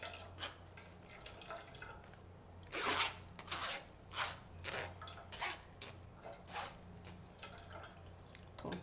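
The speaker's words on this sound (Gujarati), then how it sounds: "આ બધું આપણે આ રીતે ગાળી લેવું." Amla juice is strained, giving faint trickling and dripping of liquid with small splashes in irregular bursts, quiet and close.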